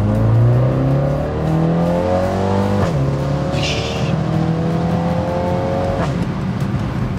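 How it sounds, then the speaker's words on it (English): BMW X2 M35i accelerating hard, a loud engine note climbing steadily in pitch, cut twice by abrupt upshifts with sharp cracks, then rising again each time, close and alone without talking. "Those shifts, those upshifts, like legit scare me."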